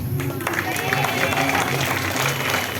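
An audience claps at a college National Service Scheme event, giving a brief, dense patter of hands, while a voice speaks over the clapping.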